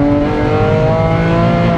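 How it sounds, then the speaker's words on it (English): Manual Porsche 911 997 Carrera 2S flat-six revving hard and loud, a steady rising engine note held close throughout with no talk over it. "I love the way these things rev out."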